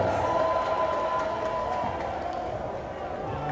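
Home crowd at a Carthage men's college basketball game against North Park erupts in loud, sustained cheering after a pair of missed free throws, a steady roar filling the gym throughout.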